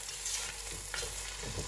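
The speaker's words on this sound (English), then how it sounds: "I'll be stirring" Fried rice being stirred in a pan gives a short burst of close, steady sizzling with faint scraping underneath.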